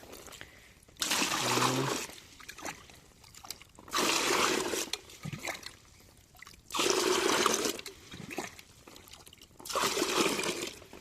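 Water poured from a container into a spray tank in a bitter gourd field, in four separate pours of about two seconds each, with gurgling, splashing bursts and quiet pauses between them.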